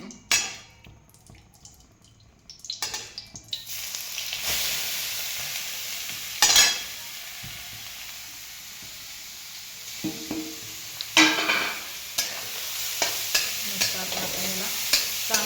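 Grated carrots roasting in a pan give off a steady hiss of sizzling, broken by scraping stirs and a few sharp clatters of the spoon against the pan, with no talk over it.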